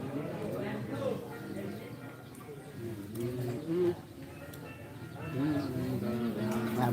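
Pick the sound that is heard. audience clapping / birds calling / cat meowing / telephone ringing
birds calling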